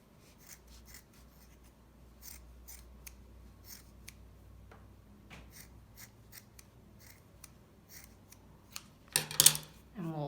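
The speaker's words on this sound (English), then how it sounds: "you can use your scissors and kind of shave off some of it" Repeated sharp snips and clicks at an uneven pace, close and fairly quiet, with a louder cluster of snips near the end.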